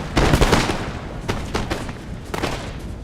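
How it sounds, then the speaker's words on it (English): Massed musket fire from defenders on fortress walls in the strategy game Empire: Total War, a dense rolling crackle of loud overlapping shots in several waves, with no talk. "My guys up on the walls are gonna love just taking cheap shots at them."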